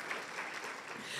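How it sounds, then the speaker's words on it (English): A brief burst of audience applause at a women's gathering, dense clapping from a roomful of people, fairly soft and distant. "let's give them a round of applause, too"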